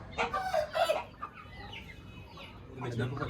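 A hen clucks nearby in a short burst, followed by quieter background sounds and low rustling.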